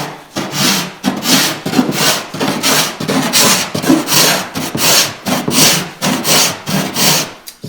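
A hand plane shaves wood while fairing a canoe hull, making rhythmic rasping strokes about two per second, loud and close, each stroke a coarse scrape followed by a brief pause.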